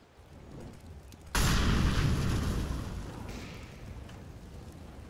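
A gunshot in the video game CS:GO: a single sharp, loud report that crashes in abruptly after quiet background noise and then decays into a lingering rumbling echo.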